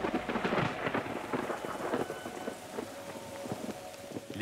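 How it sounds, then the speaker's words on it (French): A tropical thunderstorm over Yawalapiti lands in the Amazon forest: rain drumming on surfaces with rolling, booming thunder, loudest in the first two seconds, then a steadier patter of drops. "C'est maintenant la pluie et les éclairs qui menacent notre travail."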